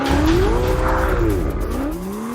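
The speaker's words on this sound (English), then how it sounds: "time now to show you what a lap looks like, and to do that we've got a bit of a performance benchmark, a Ferrari 488" A Ferrari 488 on a fast lap roars loudly up close, the engine note sweeping up and down through gear changes, with a hint of tire noise.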